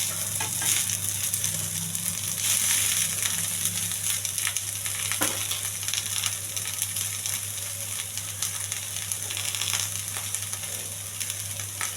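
Cabbage fries with cumin seeds and curry leaves in a pan, giving a steady, dense sizzle with faint stirring scrapes, heard close and alone.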